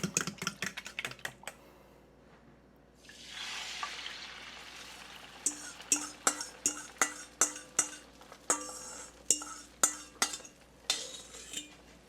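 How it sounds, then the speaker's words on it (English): About 14 eggs being scrambled in a pan start with a soft frying sizzle, then a run of sharp rhythmic clicks and taps as a utensil scrapes and strikes the pan, close and clear with no talking. "We're gonna do scrambled eggs."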